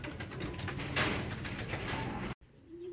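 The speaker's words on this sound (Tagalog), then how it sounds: "pakainin ko na itong mga ibon" Soft, low pigeon cooing amid a dense rustling background, cutting off abruptly near the end before a quieter stretch.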